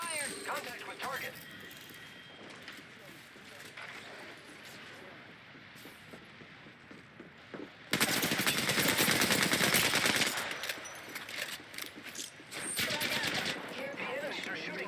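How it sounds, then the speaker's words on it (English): Rapid bursts of automatic gunfire from a video game, dense and continuous, growing much louder and heavier partway through, with a voice talking over the shooting. "Enemies are shooting at me."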